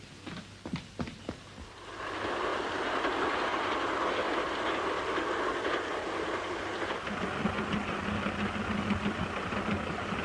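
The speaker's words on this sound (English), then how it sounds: "see the train?" A 1930s steam-era train rumbles steadily nearby, a broad sustained roar with rhythmic rail clatter after a few sharp knocks at the start, continuing alone without voices.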